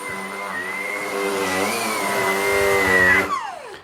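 A Shark vacuum cleaner's motor keeps running as the machine is pulled backward, giving a loud, steady, close whine for about three seconds. It then abruptly winds down, falling in pitch.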